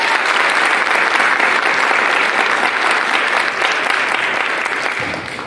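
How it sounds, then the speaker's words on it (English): An audience at a high school jazz lab and orchestra showcase gives a round of applause, loud dense clapping that holds steady throughout and tapers slightly at the end. "can we get a round of applause for Mr. Knox real quick?"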